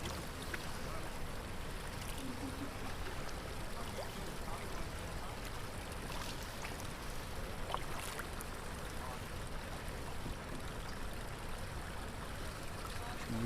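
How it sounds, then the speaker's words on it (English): A kayak paddles slowly across the Coorong, with constant near water wash and light trickling drips from the blades. Occasional faint voices sit under the steady water noise. "Yeah, just paddle us up to it, Ro. Slowly."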